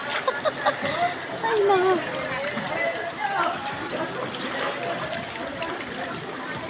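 Someone wades through floodwater with soft sloshing splashes and trickles. Excited voices talk and exclaim over the water throughout.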